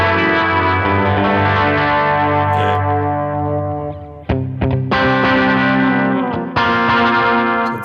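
An electric guitar plays sustained chords through a chorus modulation effect from a Line 6 Helix, with a shimmering, swirling sound, broken by a few sharp strums midway.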